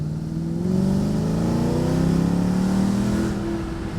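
A Mercedes E55 with a 77mm fixed pulley accelerates hard on the road. The engine roars loud and close throughout, its pitch climbing steadily as it pulls. No speech is heard.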